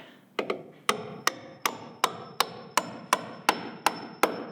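16D nails, 3 1/4 inch long, are hammered into porch boards: a couple of light taps, then about ten sharp, evenly spaced ringing hammer blows, close and loud, with no talking.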